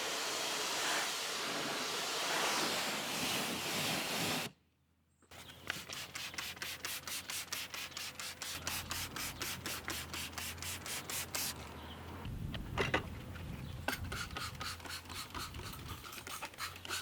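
Brushes scrub a dirty Audi A1's alloy wheels and tyres in quick, rhythmic wet strokes, close by, after an opening stretch of steady hissing spray.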